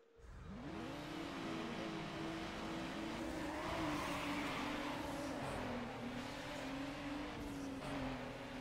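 A race car in Need For Speed Underground screams along with a continuous revving engine whose pitch rises and falls through gear changes, steady and fairly quiet throughout with no talking.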